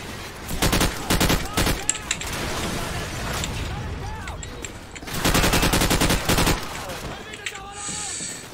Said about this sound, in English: Apa sih nembaknya?